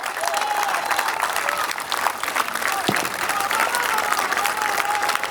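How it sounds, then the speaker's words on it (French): A crowd applauds the podium finishers of a French 2CV cross championship race at Bourges Allogny. The clapping is loud, dense and sustained, with a voice audible over it. "un tonnerre d'applaudissements pour ce podium"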